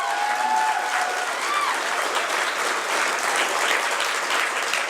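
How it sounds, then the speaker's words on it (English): Sustained audience applause fills a company event celebrating a new Saint Paul location, steady and dense for the whole stretch, with a few faint voices mixed into the crowd. "Give her a round of applause, please."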